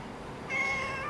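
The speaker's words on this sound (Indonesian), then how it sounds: "Ini gede nih kucing bengal." A large male Bengal cat named Embul gives a single short meow, close and clear over quiet room noise.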